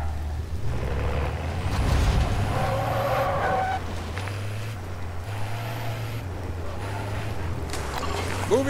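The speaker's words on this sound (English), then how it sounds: "There's a vehicle!" A heavy vehicle rumbles with a steady low engine drone and a hiss of air brakes inside Call of Duty: Modern Warfare 3 Zombies, mixed with game noise and a voice calling out.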